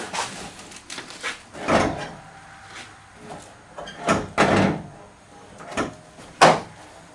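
Hood of a neglected 1987 AMC Jeep Wagoneer being opened, heard as a series of separate metallic clunks and thumps at close range, with quieter rattles between them and no talking.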